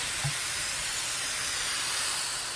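Steady broadband hiss of ground meat sizzling with vegetables in a hot pan, continuous and fairly loud throughout, with a brief low clunk near the start.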